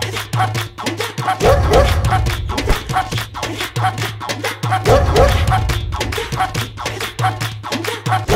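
A dog barks and yips in repeated bursts, close and loud, with whimpering between the barks and a shuffling background throughout.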